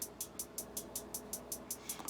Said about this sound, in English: For the hi-hats, we had something like this.